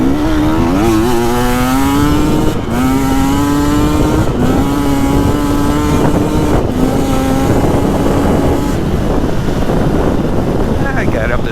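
A 2025 KTM 300XCW Champion Edition dirt bike accelerating hard in sixth gear, its engine rising in pitch through several pulls, loud and close under heavy wind buffeting on the microphone.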